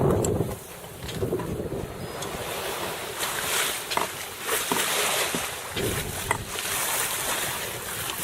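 Wind and water rushing past a sailboat making about 4 to 5 knots off Oahu, Hawaii, with Diamond Head in view: a steady close roar of gusts, wind buffeting the microphone and waves sloshing against the hull, with no talking.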